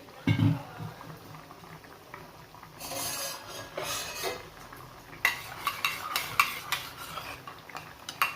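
A pot of chamagadda pulusu, a taro stew, bubbles at a close, steady boil while a spoon stirs and scrapes it, with light metallic utensil clinks and no talk.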